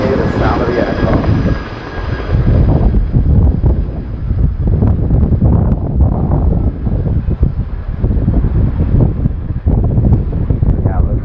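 An RAF Boeing Chinook HC.6 tandem-rotor helicopter flies at the RIAT 2019 airshow, its loud, deep rotor thrum and turbine roar sustained throughout, buffeted by heavy wind noise.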